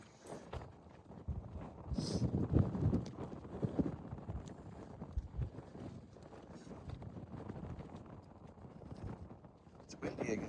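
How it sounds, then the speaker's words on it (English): Wind gusting across the Devil's Garden primitive trail in Arches National Park, buffeting the microphone in low rumbling surges, with faint footsteps and soft voices in the background. "It's windy again."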